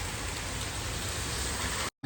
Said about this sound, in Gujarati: આ 2-3 દિવસ પછી સારો વરસાદ આવ્યો છે.